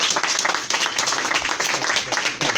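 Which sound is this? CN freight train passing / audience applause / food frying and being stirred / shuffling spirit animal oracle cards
audience applause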